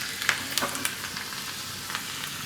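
Finely chopped garlic sizzles in hot oil for a spinach and brinjal curry, a steady high crackle with a few sharper pops near the start and no voices.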